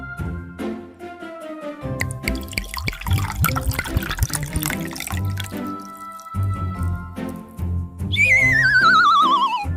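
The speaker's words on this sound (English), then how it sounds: "W for water." Water sounds in a children's alphabet phonics lesson, with dripping and liquid splashes mixed with tonal musical effects and a rising whistle-like tone near the end.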